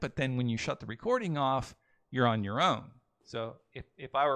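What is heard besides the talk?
No distinct noise like a dog, phone or traffic.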